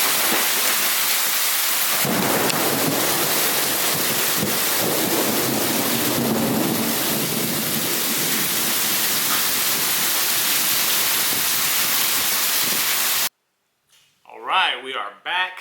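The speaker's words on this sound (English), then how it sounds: "It is pouring outside." Heavy rain pours in a dense, steady roar, then cuts off abruptly and a person begins speaking.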